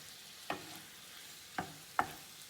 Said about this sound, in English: I'm just gonna give this a stir